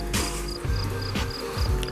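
Feeder crickets kept in a box give off a steady, close chirping with repeated short pulses, mixed with light rustling and shuffling.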